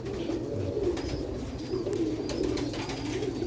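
Sialkoti black-mouthed pigeons coo in a steady, rolling murmur of soft low calls, several birds overlapping continuously at close range with faint chirps above.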